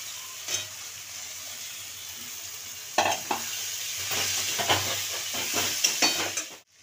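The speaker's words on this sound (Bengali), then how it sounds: "মশলাটা কষা হয়ে গেছে, আমি এবার আলুগুলো দিয়ে দিচ্ছি।" Potatoes go into a fried, well-cooked spice mix for ghugni, giving a steady close sizzle and hiss with repeated scraping stir strokes and small clatters, growing louder after the potatoes drop in.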